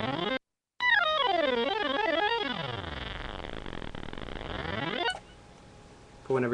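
Z3ta+ software synthesizer played with its ribbon controller: a bright, buzzy synth tone gliding up and down in wobbling pitch sweeps, then a long descending and rising swoop, ending abruptly with a low hum, no voices.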